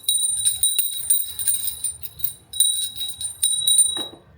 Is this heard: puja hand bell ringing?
yes